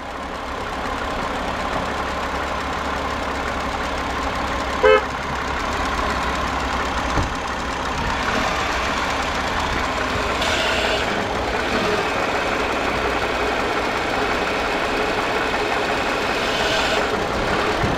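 A Hyundai Grandeur TG sits idling with a steady, continuous engine drone and faint knocking texture while the steering wheel is turned through the power steering, no voices, a brief click or clunk near the middle.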